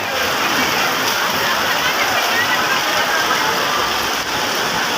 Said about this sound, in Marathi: कैसा बदा बदा पाऊस आता आहे मित्रांनो.